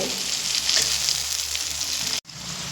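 Potatoes frying in a pan, a steady, close, broadband sizzle of hot oil that runs evenly throughout, broken by a brief dropout near the end before it resumes, with no talking.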